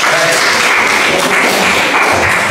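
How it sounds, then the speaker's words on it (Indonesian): Loud, steady applause from a crowd at a school retreat session, dense clapping filling the whole stretch with a few heavier thumps and murmured voices underneath. "Oke, tepuk tangan dia."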